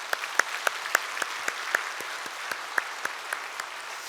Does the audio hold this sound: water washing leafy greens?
no